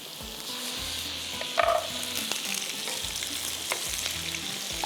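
Green chillies frying in a pan give off a constant soft, crackling hiss at moderate volume, with a few brief clinks and stirs along the way and no talking.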